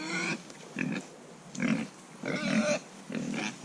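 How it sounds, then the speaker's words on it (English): Pigs on a farm grunt in a series of short, close, moderately loud bursts with brief pauses between them during morning chores, and no one speaks over them. "I'm coming, piggies, I'm coming."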